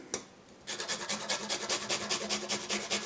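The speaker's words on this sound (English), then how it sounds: "For the garlic, I like to use a microplane to grate it." Garlic is grated on a microplane: a brief tap, then quick regular rasping strokes follow one another closely and clearly, with no voice.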